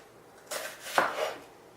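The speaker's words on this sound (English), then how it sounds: "I'm just cutting it so that I'm chopping it in half, and then I just keep chopping each half" A knife chops through an onion on a cutting board, two or three quick close strikes about half a second apart, brief and moderately quiet with no talking.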